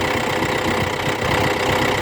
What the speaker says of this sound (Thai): เครื่องยนต์นี่เป็นซีสูบไดเรกอินเจคชั่นนะครับ